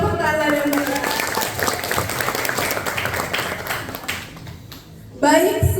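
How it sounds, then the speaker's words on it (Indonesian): An audience at an Indonesian village media launch event claps under a presenter's talk and music, the clapping loosening and fading before a short renewed burst at the end. "Tepuk tangan yang meriah"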